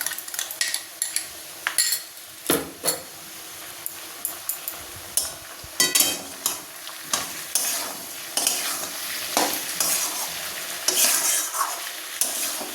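A spoon scrapes and stirs through frying jackfruit as ground spice paste goes into the pan, giving irregular clattering knocks over a soft sizzle that carries on throughout.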